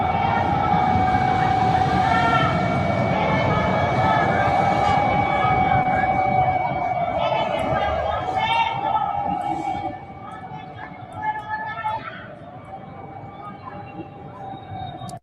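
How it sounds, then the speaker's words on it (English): Air raid sirens sound across Venezuela in a loud, sustained, slightly wavering wail that holds steady for several seconds and then drops away, leaving distant murmurs and faint voices. "You can hear the air sirens right now."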